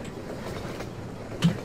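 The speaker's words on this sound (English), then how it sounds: "Where's this train? It's right there." A train passing in Half-Life 2 gives a steady, low, rolling rumble with faint rail clatter, moderately quiet and unbroken, with one brief brighter click near the end and no talking.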